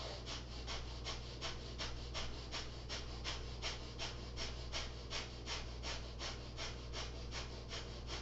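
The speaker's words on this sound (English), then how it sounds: "And when you're ready, bellows breath." Bellows breath during a yoga flow: rapid, forceful rhythmic breathing, a steady train of sharp, evenly spaced puffs of air, close and clear, over a low background hum.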